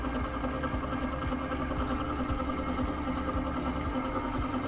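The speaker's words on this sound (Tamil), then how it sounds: "மோட்டர் பாருங்கள் எவ்வளோ ஸ்மூத்னிங்காக ஸ்பீடாக ஓடுதுன்ட்டு." A 36V 250W CY brand electric bicycle hub motor runs at maximum speed with a steady, smooth mechanical hum and faint rhythmic ticking, close and constant throughout.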